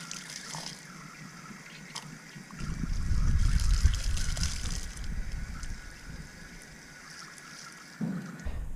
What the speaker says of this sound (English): Now I just rinse it out straight under the clean tap,